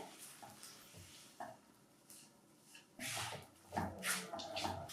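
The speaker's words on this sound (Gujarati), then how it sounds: "હવે બીજું થોડું ઘી એડ કરવાનું અને એમાં 150 ગ્રામ ઘઉંનો ઝીણો લોટ ઉમેરવાનો. લોટને આપણે ધીમા ગેસ ઉપર સરસ રીતે શેકવાનો છે." Fine wheat flour roasting in ghee over a low flame, a spoon scraping and stirring through it in the pan with soft sizzling and intermittent louder scrapes, close and quiet.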